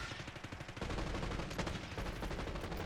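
Rapid bursts of automatic gunfire crackle close and loud in a Call of Duty Warzone mini royale match, a dense rattling stream that intensifies partway through.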